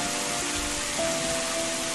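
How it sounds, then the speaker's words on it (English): Steady, pouring rain across a waterlogged landscape in Final Fantasy XIII, a constant close hiss of drops on surfaces with no gaps, heard alone under a faint tonal hum. "Here it pours, and then it rains some more."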